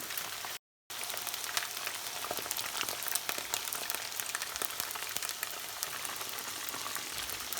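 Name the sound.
chicken frying in oil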